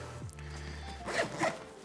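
A zipper runs closed as a Vapor 5000 bag is zipped onto an F1 Mainframe hunting backpack, a few close, raspy pulls with two louder bursts near the end and no talk.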